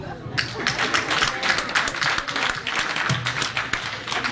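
At a dinner show, an audience breaks into sustained applause, a thick continuous patter of many hands clapping, with voices talking faintly beneath it.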